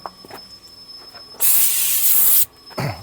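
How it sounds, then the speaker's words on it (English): A weak air compressor nozzle blows a loud steady hiss for about a second while cleaning a farm truck's dashboard, preceded by faint clicks and followed by a brief second puff. "that air compressor is moving about as much wind as"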